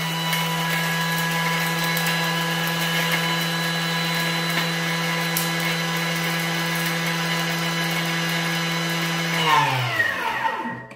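A kitchen blender whirs loudly and steadily while grinding powdered sugar with vanilla for a light coconut panna cotta, then winds down as the motor slows at the end.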